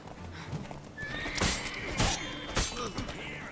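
A horse in The Witcher 3 video game, with a loud whinny and hoof clatter plus a couple of sharp crashing impacts rising over a steady game soundscape.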